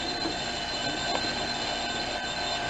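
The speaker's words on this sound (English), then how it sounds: "Alarm clock" An alarm clock rings from a tape player in a children's listening game, a continuous high-pitched ringing tone held steady for the whole stretch with no voices.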